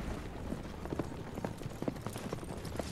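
Horse hooves from the Assassin's Creed Brotherhood game, galloping behind a horse-drawn carriage, thump in a rough steady rhythm over a busy, noisy game mix.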